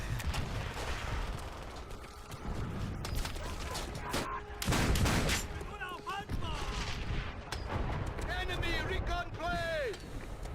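Shotgun blasts in a Call of Duty game, a couple of heavy booming shots amid game noise and effects, with someone talking over the action.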